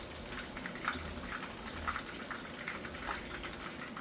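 Cod fish and crab fritters frying in hot oil in a pot give a soft, steady bubbling sizzle with gentle periodic pops, fairly quiet and without talk.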